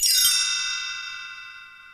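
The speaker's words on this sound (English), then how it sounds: "You will know it is time to turn the page when you hear the chimes ring like this." A single bright chime rings out clearly and sustains, its shimmering tones slowly fading over a couple of seconds.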